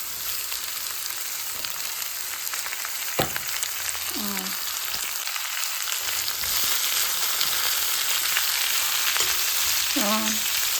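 Onions sautéing in a pan for a pork roast give a steady, close sizzle throughout, with a few metallic scrapes of stirring and utensil clinks scattered through the frying.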